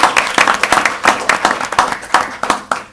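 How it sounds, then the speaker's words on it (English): A small audience at a school district board meeting claps for a South Carolina Teacher of the Year, a near, sparse round of distinct individual claps in a loose rhythm over a few seconds, with no talking. "just like to just give a hand round of applause"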